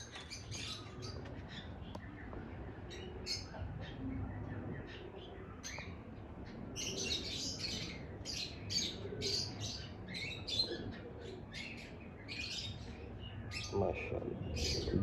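Male game pigeons in a loft give scattered squawks, chirps and wing flutters, near and moderately loud, in irregular bursts over a low background rumble.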